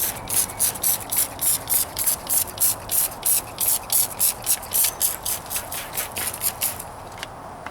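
Water is sprayed onto the hood of a 1998 Toyota Corolla for wet sanding, landing as a quick, regular series of sharp hissing pumps that runs for several seconds before stopping.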